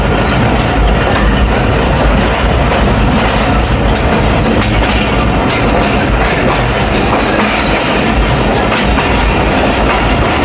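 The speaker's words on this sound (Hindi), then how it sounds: "रावलपिंडी रेलवे स्टेशन की प्लेटफार्म नंबर 4 पे अप्रोच बना रही है 48 टाउन रहमान बाबा एक्सप्रेस" The 48 Down Rehman Baba Express, recently refurbished, rolls up to platform 4 at Rawalpindi railway station, a loud, steady close rumble of wheels with clickety-clack and a faint squeal, with no talk.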